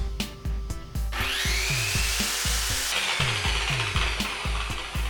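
A circular saw makes a long freehand cut, its high whine rising after a short start and holding steady for several seconds over a rhythm of low, repeating thumps.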